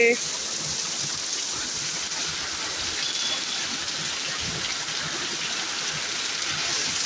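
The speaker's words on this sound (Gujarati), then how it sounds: "કેટલો વરસાદ છે" Heavy rain pours down in a steady, dense hiss, drumming on surfaces close by without a break, amid wind and thunder.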